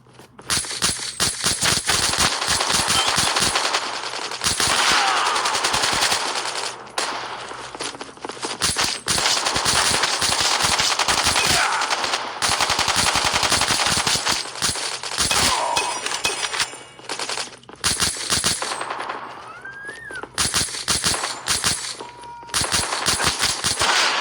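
In a video game, pistols fire in dense, rapid volleys of sharp cracks almost without pause, loud and close, broken by short gaps and a few metallic clinks.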